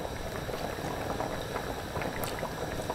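Coconut milk simmers in a pot with a dense, steady bubbling and gentle liquid churn, close and constant throughout with no voices.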